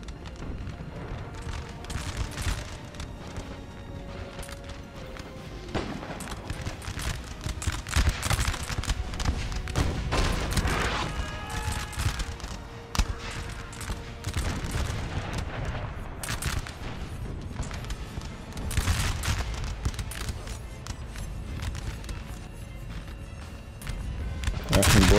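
Distant artillery booms and crackling musket volleys fill a Napoleon Total War battle, a continuous layered din of shots with occasional louder blasts and a commentator talking over it.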